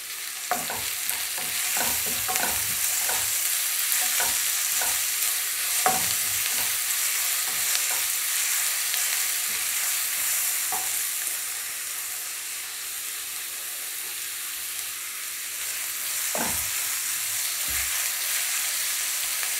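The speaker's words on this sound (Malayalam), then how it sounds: "നമുക്കിത് നന്നായിട്ടൊന്ന് വഴറ്റാം." Onions with a pinch of salt are sautéed in a pan for egg curry. A spatula scrapes and clinks against the pan in quick bursts over a constant close sizzle, then settles into a softer fry.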